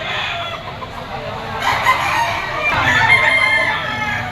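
A young rooster, a stag, crows in a Batangas gamefowl yard, two drawn-out calls rising over a steady farmyard background with no talk.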